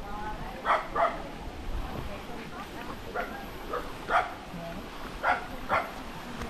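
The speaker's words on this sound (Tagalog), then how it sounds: "Oh, may aso pang tumatahol doon" A dog barks several times in short separate bursts, moderately distant, with quiet gaps between barks and faint background chatter.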